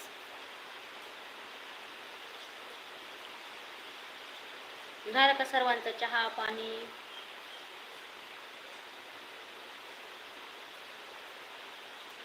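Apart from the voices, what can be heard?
rain falling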